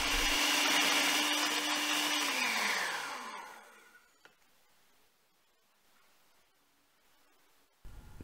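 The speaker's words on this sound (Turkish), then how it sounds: "mikser ile çırpmaya devam ediyoruz" An electric hand mixer whisks cake batter, whirring loudly at a steady pitch, then winds down and stops, leaving near silence with faint clicks.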